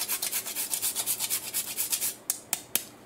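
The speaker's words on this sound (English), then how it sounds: "I'm going to grate in some fresh nutmeg." Fresh whole nutmeg scraped against a fine grater in a rapid, even run of about a dozen short rasping strokes, close and clear, ending with a few sharper isolated scrapes.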